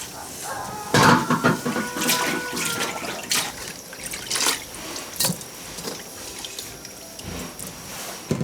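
Beef pieces tipped into a basin of clean water and rinsed, giving sloshing, splashing and clattering close by, with sharp knocks of the meat or container against the vessel and brief dripping throughout.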